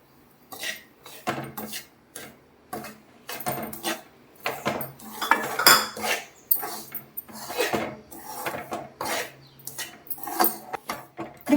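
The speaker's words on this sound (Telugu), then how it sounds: "ఇప్పుడు మనం రాగిపిండి వేసాం కదా, ఒక 2 నిమిషాలు కలుపుకుంటానే ఉండాలి, కింద మాడిపోకుండా." A spoon scrapes and stirs ragi flour with white sesame seeds roasting in a pan, irregular gritty scraping strokes and metallic clinks, close and fairly loud, with no talking.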